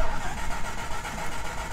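A Dodge Viper's engine catches and runs, giving a brief, loud, rough mechanical rumble with no talk over it.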